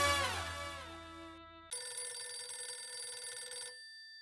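A telephone rings nearby in a TV sitcom scene: a descending tonal chime followed by a steady electronic ring tone, clear and alone without talk.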